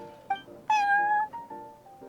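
A cat meowing in the Genshin Impact card game, several clear, close meows including one long drawn-out cry, with no talking.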